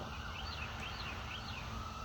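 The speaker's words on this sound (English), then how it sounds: "We have an ambulance or fire station down the road too. So if you hear that, that's what's going" A faint, distant emergency siren from an ambulance or fire station down the road wails in slow rising and falling sweeps beneath a constant low background rumble.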